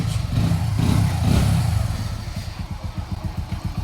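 A motorcycle with a freshly rebuilt engine runs close by, its exhaust throbbing and revving at first, then settling into a steady, even idle putter.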